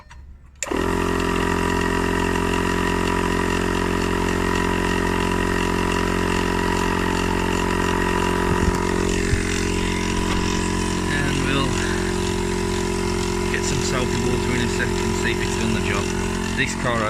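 A 12 volt tyre inflator pump from a puncture repair kit, running on a new MG3 with the ignition on, starts abruptly and drones continuously with a loud buzzing, rattling hum; a person talks over it.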